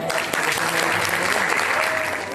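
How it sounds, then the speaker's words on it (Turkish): Applause from the audience at a school performance, dense steady clapping throughout, loud and close. "alkışlarınızla"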